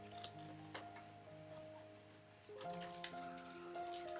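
Pipe cleaners on a grapevine wreath being trimmed with scissors, giving a few faint, quick snips over a quiet background hum.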